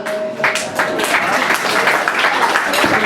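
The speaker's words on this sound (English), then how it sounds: "Give a big round of applause." An audience at an amateur 'Stars In Their Eyes' talent show gives a loud, sustained round of applause, dense clapping that fills the room as the next performer comes up.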